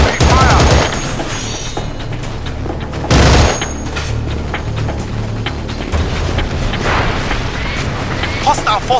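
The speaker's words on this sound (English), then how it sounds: "Trapped by enemy fire!" Enemy gunfire and blasts in the video game Battlefield 2: Modern Combat, with loud, close bursts of shots and heavy booms over a continuous battle din, along with voices.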